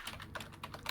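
Soft, rapid keystrokes clatter on a computer keyboard, faint and close, ending in one slightly sharper key tap.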